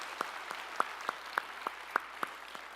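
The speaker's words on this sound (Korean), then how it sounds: "우리에게 찬양의 조건을 주신 주님께 영광의 박수 올리시겠습니다" Church congregation clapping in unison during a Sunday service, a steady rhythmic beat of about three claps per second, moderately loud with no talk over it.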